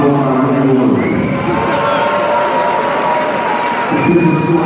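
A boxing arena crowd applauds and cheers both fighters after a bout, a dense roar of clapping and voices under an announcer's amplified speech at the start and end.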